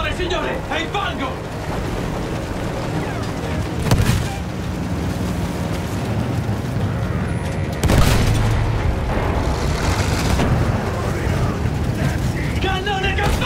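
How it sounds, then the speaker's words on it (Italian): A field cannon fires in Battlefield 1 amid muddy battlefield action, with two heavy booms about four seconds apart. They sound over a constant mechanical rumble, and voices can be heard in the mix. "Cannone campale!"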